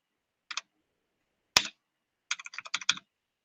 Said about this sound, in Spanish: Déjame trabajar con este teclado.